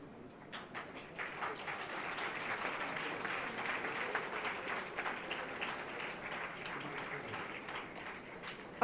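Students at a university ceremony applaud while the Vice Chancellor signs, a sustained crowd clapping that swells and holds steady at moderate distance, with faint voices underneath.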